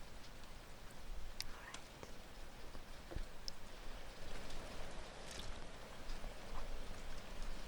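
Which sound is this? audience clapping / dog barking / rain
rain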